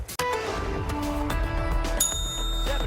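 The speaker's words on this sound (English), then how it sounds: "ring that bell" A bright bell rings with clear metallic tones during a morning snow-coverage news broadcast, sharp strikes ringing out over a busy studio background and a final higher ring near the end.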